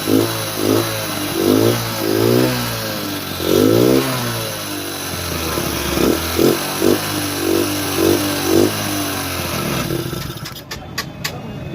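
A Hero Honda Dawn motorcycle engine revs repeatedly after starting, rising and falling in loud bursts over a steady idle, then settles into a rough running idle with some sharp clicks near the end; the machine has a cylinder head fault and leaks smoke.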